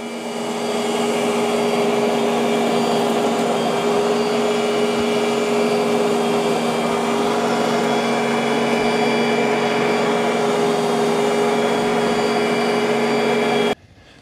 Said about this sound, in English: And here's the Roomba. It does a good job of vacuuming.